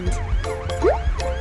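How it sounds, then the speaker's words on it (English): A cartoon ambulance siren wails in a toddler learning animation, loud and close, with repeated sweeping tones and no talking over it. "An ambulance quickly hit the road."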